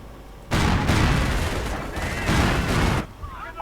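Gunfire from an aircraft strafing run in a World War II real-time strategy game: dense, loud rattling bursts that last about two and a half seconds, then cut back to quieter background battle noise.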